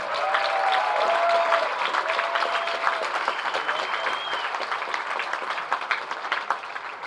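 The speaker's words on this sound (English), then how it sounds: "Please give them a round of applause." Crowd applause at an outdoor championship baseball game, Unicorns versus Beavers, a dense sustained clapping that holds steady and tapers slightly, with faint whistles over it and no talk.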